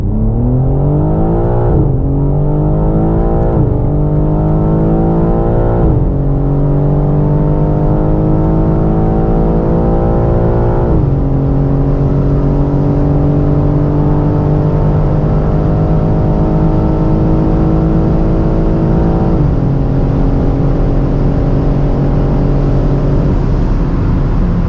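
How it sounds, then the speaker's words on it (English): A tuned 612 hp BMW M3 xDrive pulls hard from 100 to 200 km/h on the Autobahn. The loud, close engine note climbs steadily through four upshifts, each with a brief dip in pitch, and no one speaks. "we will head out onto the Autobahn and see how fast it goes, 100 to 200"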